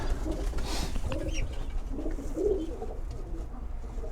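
A young light-coloured pigeon coos softly while being held in the hand, low throaty murmurs close by amid handling rustle and faint background noise.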